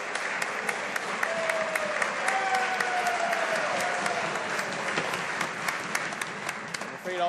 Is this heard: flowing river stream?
no